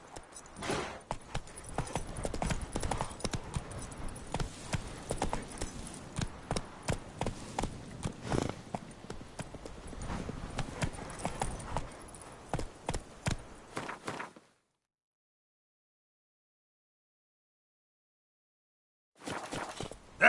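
Roach the horse gallops in The Witcher 3: Wild Hunt with rapid rhythmic hoofbeats thudding close and steady, cutting to sudden silence for several seconds before the hooves briefly return.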